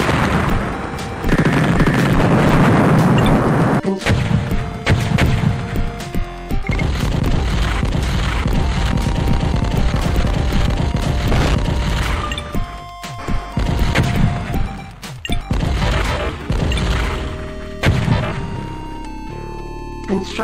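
Nuclear missile strike in the strategy game DuneHack: a loud, sustained barrage of crashing blasts and rattling gunfire-like impacts over a dense background of game noise.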